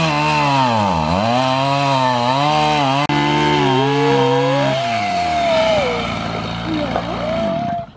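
A chainsaw engine runs loudly and steadily, its pitch rising and dipping as the throttle is worked, then climbing to a high whine before cutting off.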